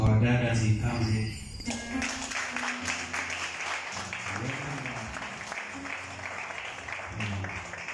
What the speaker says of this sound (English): Let us clap for our dad as he comes in.